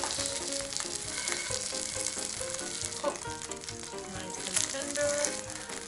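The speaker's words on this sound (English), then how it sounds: "I'm just going to let it cook on this side also" A thick lamb chop sizzles steadily in an oily pan, a continuous close frying hiss with occasional small pops and spatters.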